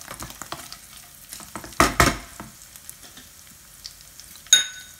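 Cashew nuts stirred into hot oil in a pan, giving a soft ongoing sizzle with a few louder scraping stirs near the middle and end.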